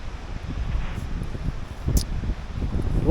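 Wind buffets the microphone in steady low rumbling gusts on a cold, wet day in Līgatne, Latvia, with faint rustling and a brief higher swish near the middle.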